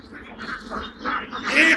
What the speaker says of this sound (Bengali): দেখুন আপনার চোখ যেদিকে যায় সেদিকে শুধু হাঁস আর হাঁস